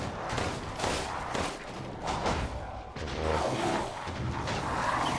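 Continuous loud gunfire and crashing from the Resident Evil Village survival horror game, with repeated shots fired at a horde of enemies. The dense, busy barrage fills the whole stretch without pause.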